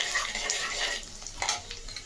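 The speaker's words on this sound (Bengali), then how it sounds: "আমি একটু তিলটাকে দিয়ে দেবো। জাস্ট একটু ভাজা ভাজা হয়ে গেলে" Sesame seeds fry in hot oil with black cumin tempering for an ivy gourd mash, a crackling sizzle broken by scraping stirs of a utensil against the pan, close and fairly loud.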